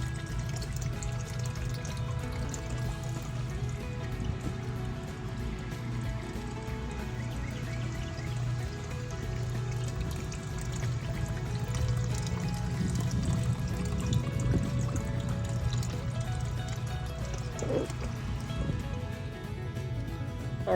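Water from a sewer jetter rushes steadily through a small French drain near a house, a continuous close pouring and gushing flow with a low churning rumble and no talk.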